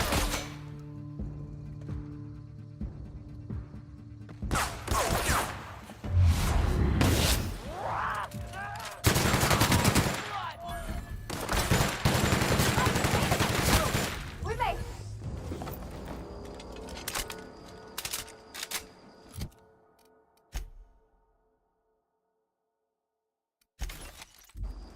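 Sniper gunfire and impacts in the video game The Outer Worlds, a dense run of loud shots, cracks and shattering over game sounds, tapering into sparse hits before a brief silence.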